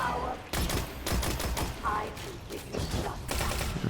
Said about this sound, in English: I forgot how frickin' strong Suros is. It really is a hard-hitting auto rifle.